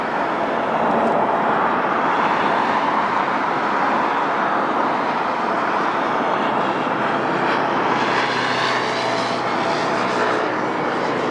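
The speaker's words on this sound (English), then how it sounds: "That was a bounced landing." A passenger plane on a flight from Funchal comes in to land at Lisbon Airport and bounces on touchdown. Its jet engines give a loud, steady roar that holds throughout, heard close by with no voices.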